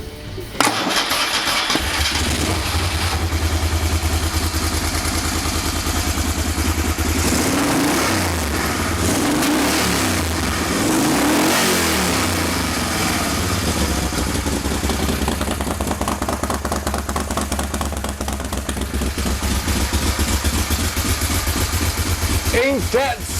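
Moto Guzzi motorcycle engine starting and revving, a loud, continuous mechanical roar that rises and falls with throttle, close up, with a voice talking over it.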